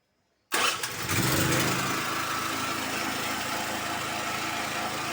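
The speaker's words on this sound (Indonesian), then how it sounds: "Kemudian genset crank." A standby generator set's engine cranks and catches after a brief silence, then settles into a loud, steady running roar that continues to the end, heard during an automatic transfer switch panel test.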